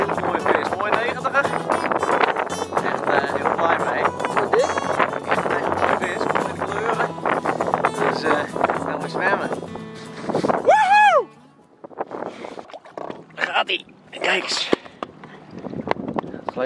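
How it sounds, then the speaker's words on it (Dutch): Strong wind buffets the microphone almost continuously on a boat trolling for pike in Friesland, with water and boat noise underneath and a few voices talking in the quieter final seconds. "Harde wind, dus ik heb niks van een drill erop kunnen krijgen."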